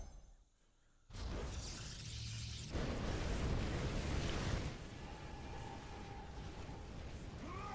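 A cannon is destroyed in a StarCraft match, a loud shattering crash and explosive burst with whooshing debris, followed by continuing dense game noise and battle sounds.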